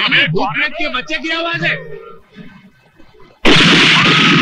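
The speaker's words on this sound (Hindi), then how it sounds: "अरे ये तो तमंचे की आवाज है भैया" Someone speaks in a comedy sketch, then after a short pause a loud pistol gunshot sound effect bursts in suddenly and stays harsh and booming to the end.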